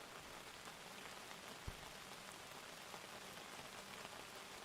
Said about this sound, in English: Looks like a light drizzle.